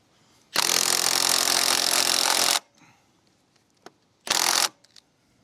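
A power tool spins a nut onto the rear sprocket of a Kawasaki Z1000SX motorbike during a chain and sprocket change, with a loud, close two-second burst, a pause, and then a short second burst.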